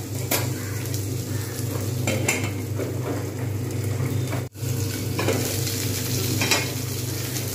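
Ingredients for a sago pulao fry in a pan with a continuous close sizzle and scraping stirring strokes throughout, broken once by a brief gap, with no voices.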